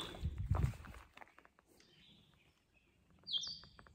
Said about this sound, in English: I don't know what that one is chirping over there